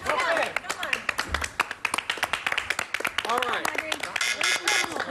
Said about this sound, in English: You, you don't have to clap, truly.